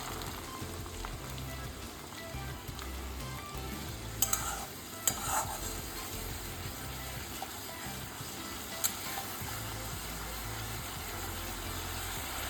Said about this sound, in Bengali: আমি একটুখানি কষিয়ে নেব মশলাটাকে 2 থেকে 3 মিনিটের জন্য